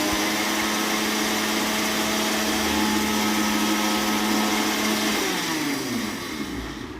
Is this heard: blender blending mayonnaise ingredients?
yes